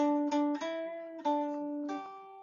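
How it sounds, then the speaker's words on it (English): A sustained Happy Birthday melody on a reed-like or organ-like instrument, a few held notes stepping in pitch with brief breaks, clear and alone. "for us who knows, happy birthday sounds like this"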